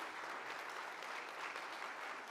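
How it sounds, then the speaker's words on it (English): A seminar audience applauds a speaker with steady, dense clapping that fills the whole stretch at an even level, with no voices standing out. "A loud round of applause for our speaker"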